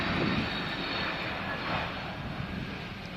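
A British Airways airliner on approach at London Heathrow roars steadily overhead, a broad, continuous engine rumble at moderate distance, alone without voices.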